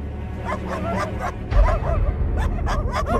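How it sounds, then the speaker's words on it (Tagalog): Pet dogs at a large house in a rural Philippine province bark and yip repeatedly in uneven bursts, close and fairly loud, with some whimpering mixed in. "nag-ingay ang mga alagang aso ni Gambaw sa malaking bahay."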